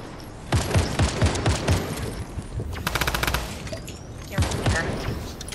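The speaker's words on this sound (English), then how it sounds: "it's Brody's rapid fire" Rapid automatic gunfire from a weapon in a trios arena shooter game, heard as several fast bursts of loud shots with short gaps between them.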